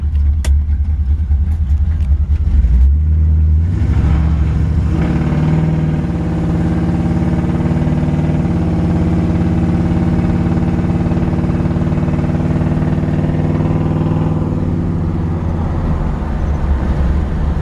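A 1973 Chevrolet Camaro's 350 V8, fitted with a new starter, runs steadily and loud throughout, a deep continuous engine drone that rises slightly as it pulls away on a short drive, with no talk over it.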